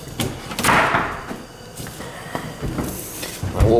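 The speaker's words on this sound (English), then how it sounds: "We're going to unplug this, open the doors." Doors being opened after a unit is unplugged, a few close clunks and thumps of handles and panels, separated by short pauses with faint rustling.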